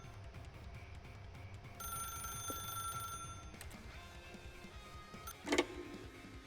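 A telephone in The Stanley Parable rings with a faint, steady electronic trill for about a second and a half against a low hum. A soft clunk follows later.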